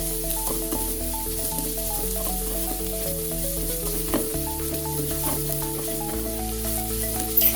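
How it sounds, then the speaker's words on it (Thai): Sliced shallots stir-fried in a pan over low heat, with a steady close sizzle and soft scraping of the spatula throughout, no voices. "หอมแดงซอยลงไปผัดต่อเลยครับ"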